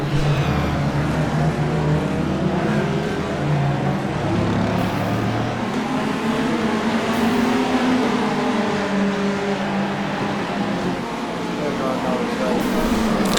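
GT3 race cars in a sim racing game, engines droning and shifting pitch steadily throughout with a steady background roar, while someone talks over them.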